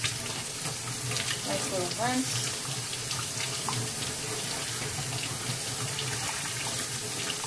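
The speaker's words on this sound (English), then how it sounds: "I'm just rinsing out the fish, okay?" Kitchen tap water runs steadily into a sink while a cleaned small fish is rinsed under it, a constant close splashing rush, with brief talk over it.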